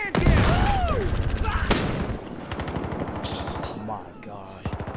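Heavy gunfire during a match of the video game Battlefield Hardline, with a rapid, loud string of booming shots up front, then quieter scattered firing, and a voice speaking over parts of it.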